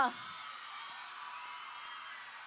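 A concert crowd yells and whoops in a sustained, distant roar after a short burst at the start, with no clear individual voices.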